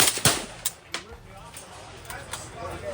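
A 7.62x39 AK-47 rifle fires at an outdoor shooting event, sharp single shots spaced irregularly, the loudest early, with later reports fainter and more distant amid background chatter.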